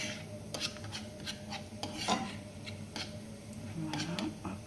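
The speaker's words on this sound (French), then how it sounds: "Je le mélange à l'huile d'olive pour que il prenne une couleur dorée un petit peu plus vite" A spoon stirs chopped onion in olive oil in a pan for bolognese sauce, giving close, irregular scraping and rasping strokes with occasional light clinks against the metal.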